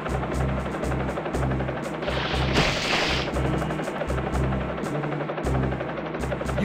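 A helicopter flies over water in the 2002 video game Tonka Search & Rescue 2, its rotor giving a steady, loud, chopping drone that pulses continuously throughout with a brief rushing swell midway.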